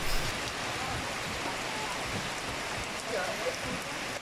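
Steady rain falling outdoors during a behind-the-scenes shoot, a dense continuous hiss with close, even drops throughout and no clear voices.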